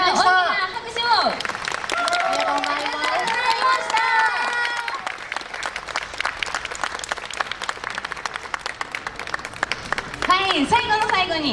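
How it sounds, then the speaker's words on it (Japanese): Audience applause for a departing guest on a Toyota City music show, steady dense clapping filling most of the stretch, with voices speaking over it at the start and end. "拍手を。"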